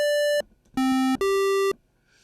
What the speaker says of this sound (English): a square wave.